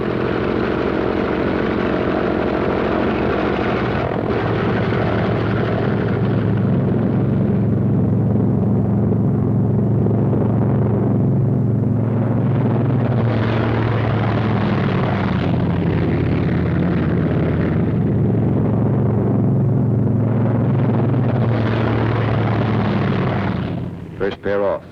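Pair of World War II fighter planes taking off on a runway, loud sustained propeller engine roar rising and swelling throughout, with brief shifts in pitch as they power away; a voice speaks over the noise.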